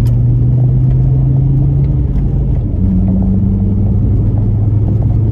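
A VW Golf Mk4 with a damaged driveshaft accelerates to overtake, its engine droning loud and close inside the cabin with a steady low hum that shifts pitch partway through.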